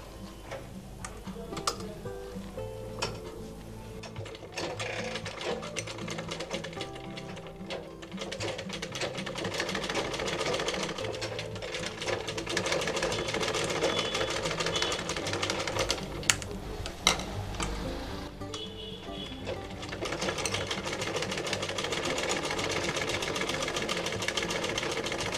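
A sewing machine stitches the sides of a cloth face mask with a steady, rapid mechanical ticking and whir that runs continuously at moderate volume. No voices are heard.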